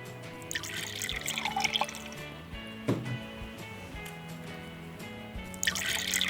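Plain water is poured into a red food-colouring and baking soda mixture for a model volcano, a soft trickling and dripping with small splashes, close and quiet, without talk.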